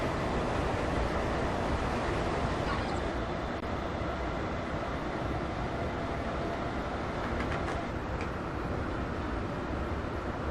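Air rushes steadily through an open window of a Class 321 electric train at speed, a loud continuous broadband roar with rail rumble underneath and no break.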